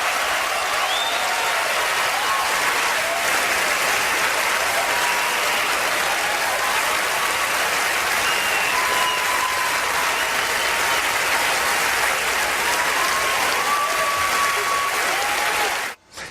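Hollywood audience on its feet giving Roman Polanski a standing ovation, a loud, dense, sustained wash of many hands clapping that fills the hall without a break and cuts off abruptly at the end.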